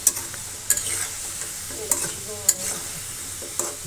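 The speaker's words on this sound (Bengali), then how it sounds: "অবশ্যই এগুলো ডুবো তেলে ভাজতে হবে, ডুবো তেলে না ভাজলে এটা হবে না।" Pieces of gaja dough deep-frying in hot oil, with a steady bubbling sizzle and a few sharp stirring clinks scattered through, close and moderately loud, with no talking.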